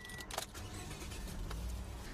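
A car is switched on, a brief jangle of keys followed by the low, muffled rumble of the engine starting and settling into a steady idle nearby.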